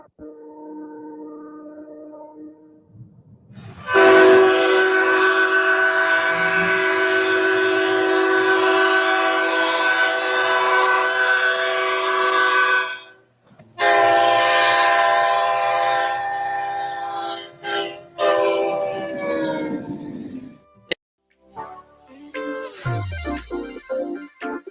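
Leslie SL4T air horn on an Amtrak SDP40F locomotive sounds loud, chorded blasts: a short one, a long sustained one, then another long blast, with rail noise trailing afterward.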